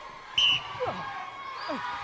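A referee's sharp whistle blast opens an American Gladiators event in an arena, a single short, loud burst, followed by squeaky shifting sounds and faint background noise.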